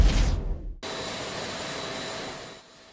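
Jet airliner of China Airlines carrying donated Moderna vaccines, a steady broadband engine roar after a brief louder burst of wind-like noise, with faint high whine, no voices.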